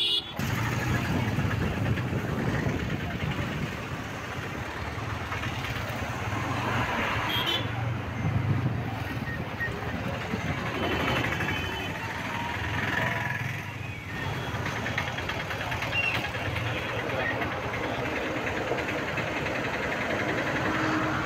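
Heavy road traffic streams past during a crowded Aadi Amavasai pilgrimage in Rameswaram, a continuous mix of engines, idling vehicles and motorbikes humming at moderate distance with no clear break.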